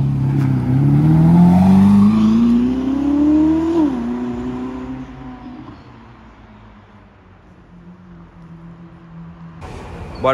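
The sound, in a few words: Ferrari SF90 Spider driving away, engine sound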